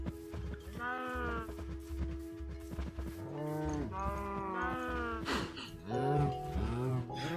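Cows and baby cows mooing in Minecraft, several drawn-out moos overlapping one another in close succession and fairly loud, with a voice speaking faintly beneath them.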